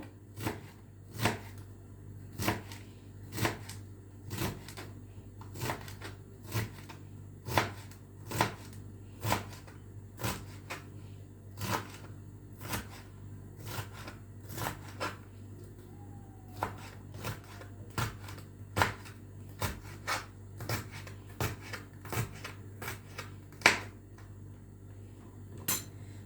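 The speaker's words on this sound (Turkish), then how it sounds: "Biberler de aynı şekilde ince ince küçük küçük doğrayalım." Steady knife chopping peppers finely on a cutting board, quick sharp taps in an even rhythm, close and clear with no talking.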